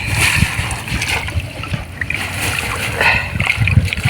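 Water splashes and sloshes up close as a fish trap holding shrimp and small fish is hauled out of a river, with irregular splatters and drips throughout.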